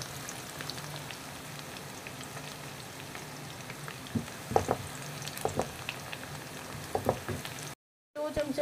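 Sliced onions with ginger garlic paste frying in hot oil in a home kitchen, a steady crackling sizzle with scattered sharp pops and stirring clatter, then a brief silent gap near the end.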